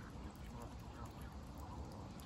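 Young Canada geese calling in a flock alongside mute swans at a pond during hand feeding, a steady mass of faint honks and quacking chatter mixed with low rumbling background noise.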